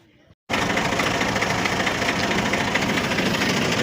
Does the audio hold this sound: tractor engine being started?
yes